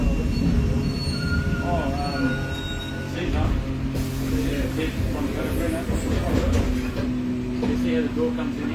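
A Melbourne City Circle tram running, with a steady rumble of wheels on rails, occasional metallic squeals and onboard hum, while a recorded announcement plays over it.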